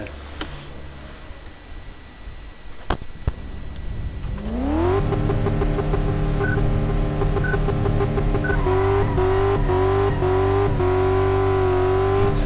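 A car engine in the video game Car Mechanic Simulator 2014, quiet at first, then revving up near and loud into a steady, sustained drone. The pitch rises again late on.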